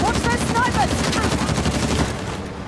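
Rapid, sustained machine gun fire in the video game Uncharted: The Lost Legacy rattles continuously at close range, with a voice faintly audible underneath.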